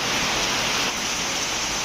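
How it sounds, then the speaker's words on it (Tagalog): Heavy rain pours down in a steady, dense hiss without pause, loud and close, with no voices. "malakas yung ulan"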